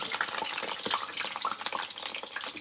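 Potatoes fry in oil for chicken biryani with a close, busy sizzle broken by crackles and stirring scrapes, the level pulsing unevenly over a short stretch.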